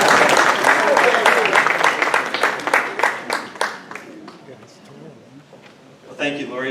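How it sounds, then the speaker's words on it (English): An audience at a transportation planning alliance meeting breaks into applause, loud at first and then thinning out into scattered claps over several seconds, with a voice starting to speak at the end. "You can give him a round of applause."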